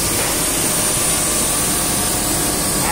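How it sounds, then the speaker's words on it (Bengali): A new cutting machine runs nonstop, a loud, steady roar with a high whining edge that holds constant throughout without pause or voices. "আজকে নতুন কাটিং মেশিন রানিং করছি, তো অনেক ভালো লাগতেছে।"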